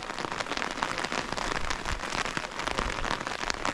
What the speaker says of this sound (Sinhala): අද හොඳටම වැසි දවසක්.